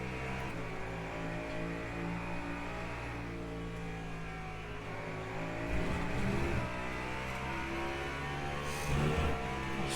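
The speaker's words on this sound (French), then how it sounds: "Ce sont des voitures de drift sous la pluie." Drift cars racing on a wet track in a video game, engines droning and revving steadily as a dense layered roar, with brief surges of acceleration partway through.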